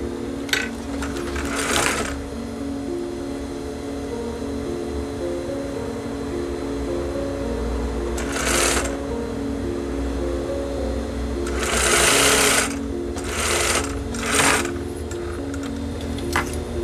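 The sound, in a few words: sewing machine stitching a recycled denim hip bag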